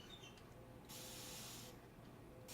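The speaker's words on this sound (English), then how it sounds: "And let's just spray some water." A long hissing spray bursts from a bottle, one sustained mist lasting under a second, close and alone against faint background hum.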